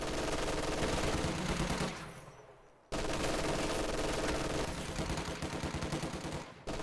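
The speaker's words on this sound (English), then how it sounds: "The MG42 does a lot more damage now." Sustained MG42 machine gun fire in a World War II strategy video game, dense rattling bursts with a short pause midway, layered with other battlefield gunfire, steady and loud throughout.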